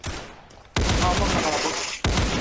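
A Thompson submachine gun fires in a Roblox game. Two loud, dense bursts of rapid automatic shots come close together, the second breaking off abruptly, with faint speech beneath.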